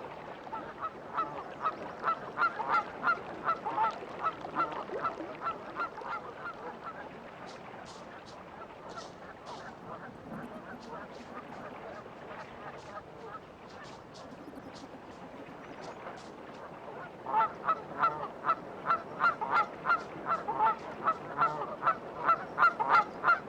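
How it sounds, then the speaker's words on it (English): Many young Canada geese honk in repeated bursts, a busy chorus that fades to a lull midway and then swells again, fairly close, in Minnesota. "these young Canada geese do not go unnoticed"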